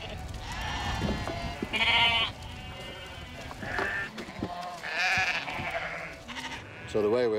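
Herdwick sheep bleating as a flock is gathered on a farm, several loud overlapping bleats coming in bursts, with a voice talking underneath between calls.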